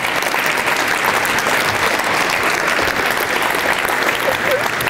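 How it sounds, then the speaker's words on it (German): Big, steady applause from a symposium audience greeting a Deutsche Bahn sales executive, thick and continuous at a constant level throughout. "Bitte einen ganz, ganz großen Applaus."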